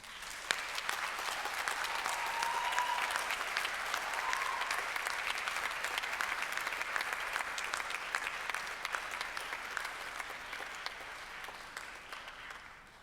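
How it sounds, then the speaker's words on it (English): Standing ovation from a graduation ceremony audience at Monash, a long, dense round of many hands clapping that holds steady at moderate level and slowly tapers off toward the end, with no talk over it. "express your gratitude by a round of applause"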